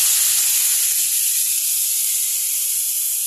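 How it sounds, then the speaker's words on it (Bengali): Dried fish and potatoes fry in oil with turmeric and chili powder, giving a steady, even hiss of sizzling. There is one faint tap near the start, and no voices. "দিয়ে এগুলো একবারে ভাজা ভাজা করব"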